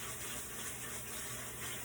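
Cold tap water running over white rice being rinsed: a steady broad gush of flowing water, even and continuous, fairly faint and close with no talk.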